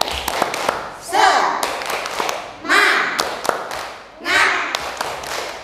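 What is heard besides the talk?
children clapping in rhythm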